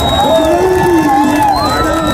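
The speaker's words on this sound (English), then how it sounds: "Give the police a round of applause." Rally crowd at a pro-police gathering outside Toronto Police headquarters cheers loudly and continuously, with whoops and shouting voices rising over a dense, steady roar.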